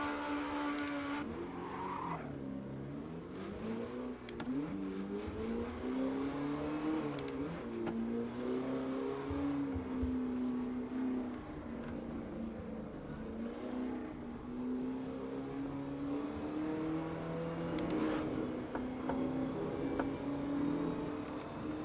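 Modded 1001-horsepower wacky car in the Assetto Corsa racing game at Brands Hatch Indy, a loud sustained engine drone rising and falling through gear changes with tire squeals over about twenty seconds, no talking.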